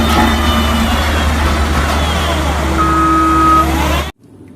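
A toy road roller's electronic reversing beeps sound as a steady, close warning tone over a background hum, then cut off abruptly near the end.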